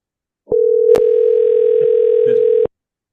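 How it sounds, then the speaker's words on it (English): A telephone call line carries a steady tone at one pitch, loud and unbroken for about two seconds, a ring or dial tone heard through call audio during a phone prospecting session, with a faint click partway through. "you should be hearing the phone ringing in a few seconds"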